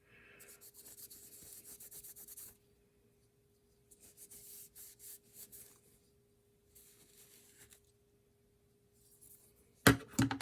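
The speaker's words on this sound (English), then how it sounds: "Get some rubbing alcohol. Just start wiping some stuff down." Cloth wiping down a Kubey Royal knife with rubbing alcohol: close, soft rubbing strokes in three separate bursts with quiet pauses between, then a sharper louder knock near the end.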